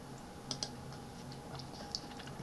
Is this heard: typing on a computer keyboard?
yes